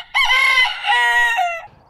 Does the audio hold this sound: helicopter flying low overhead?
no